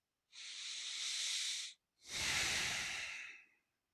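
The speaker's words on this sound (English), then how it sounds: "first stop, breathe, notice your breath." Two slow, deliberate breaths close to the microphone, a long airy inhale followed by a short pause and a fuller exhale, with no other sound around them.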